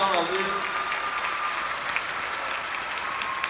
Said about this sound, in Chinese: 谢谢热烈掌声